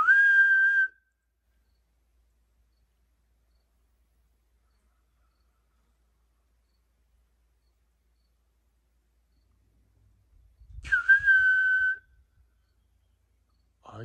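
A person whistles a steady, shrill sustained note twice, each lasting about a second, loud and close with long silence between, ending with a brief rustle.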